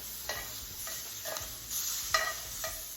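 Shrimp searing in a hot pan, turning pink and curling as they cook, with a steady quiet sizzle and a few soft scraping stirs of a utensil at irregular intervals.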